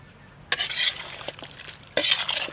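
Chicken with coriander powder is stirred in a frying pot for chicken kurma: two loud bursts of scraping, sizzling agitation, separated by a quieter stretch of low frying crackle and a few soft clinks.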